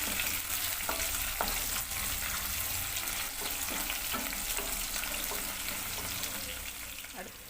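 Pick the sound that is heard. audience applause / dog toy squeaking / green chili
green chili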